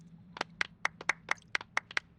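Around eleven separate claps ring out sharply in a Genshin Impact scene, evenly paced and fairly quiet against a faint low hum, with no talking.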